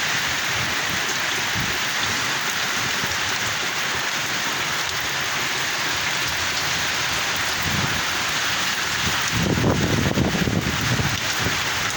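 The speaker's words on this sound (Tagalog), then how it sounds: "Grabe na, kita bagyo na yan." Heavy typhoon rain pours steadily with gusting wind in San Fernando, Pampanga, a dense continuous roar that swells louder near the end.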